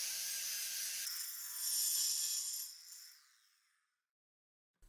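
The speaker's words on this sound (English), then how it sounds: "I take a diamond cutting wheel attached to my angle grinder and cut to my marked line." An angle grinder fitted with a diamond cutting wheel cuts a floor tile, a loud high whining grind that swells, then spins down and fades to silence as the tool winds off.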